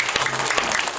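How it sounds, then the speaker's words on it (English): Audience applauding author Sharon Burch, a brief wash of dense clapping from a crowd, steady and fairly loud. "Give her a hand."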